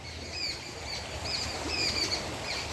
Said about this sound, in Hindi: जंगलों से बहुत सारी चिड़ियों की आवाज़ आ रही है